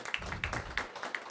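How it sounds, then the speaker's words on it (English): Audience applause in a conference hall at the India Space Congress, a short burst of scattered, moderately distant clapping with soft irregular claps. "can we start this beautiful morning with a huge, huge round of applause and put some energy into this room?"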